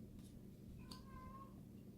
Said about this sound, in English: this is my really old cat, Belle, who's meowing